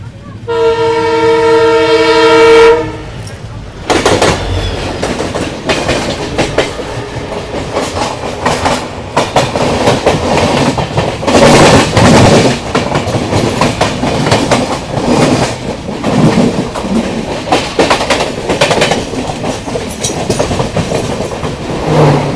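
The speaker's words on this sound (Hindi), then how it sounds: "अभी हमारी यहाँ क्रॉसिंग होने वाली है पुणे मुंबई CSMT डेक्कन एक्सप्रेस से भाई, डीजल के साथ" A diesel-hauled Pune–Mumbai CSMT Deccan Express crosses close by on Indian railway tracks, opening with a loud sustained horn blast, then a long roaring rush of passing coaches with rhythmic wheel clatter.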